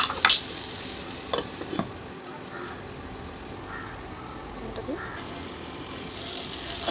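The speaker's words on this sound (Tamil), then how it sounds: "நறுக்கி வச்சுருக்கிற தக்காளியை போட்டு நல்லா வதக்குங்க" Chopped tomatoes for egg gravy sauté in a covered pan with a soft, steady sizzle, broken by a few sharp clinks and scrapes of stirring close by.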